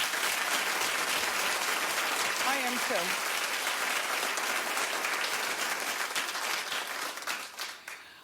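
A talk-show studio audience applauds in a long, dense wave of clapping that holds steady and then tapers off at the end, with a brief voice speaking over it.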